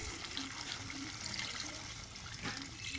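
Hot water pours steadily into a pot of cooking meat with whole onions, a continuous close splashing and gurgling with no voices.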